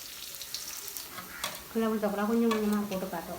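Meat curry base, Jaffna style, sautés in a pan with a soft, steady sizzle and the scrape of stirring. Frying grows louder and busier partway through the short stretch.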